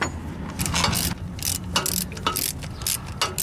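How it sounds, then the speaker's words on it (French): A 13 mm ratchet wrench working on exhaust manifold bolts, giving close, loud, repeated clicking bursts of the pawl in an uneven rhythm over a low mechanical background. "Un démontage avec une clé à cliquer de 13."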